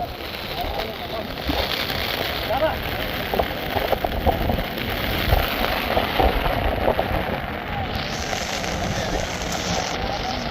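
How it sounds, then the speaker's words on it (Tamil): Steady, dense patter of heavy rain drumming on an umbrella close by at Dhanushkodi, a continuous hiss with scattered louder drops throughout. "உங்களுக்கே அந்த சத்தம்லாம் கேட்கும், மழை சத்தம்."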